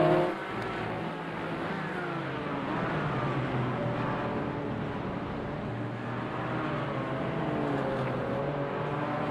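Race cars, a Porsche among them, roar continuously through a Gran Turismo 4 race, engines droning and shifting pitch as the pack runs its opening laps, steady and loud throughout.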